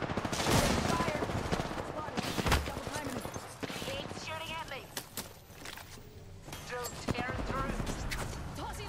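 Gunfire in an Apex Legends match rings out in rapid bursts and scattered shots, dense and continuous throughout, mixed with game effects while players talk over it.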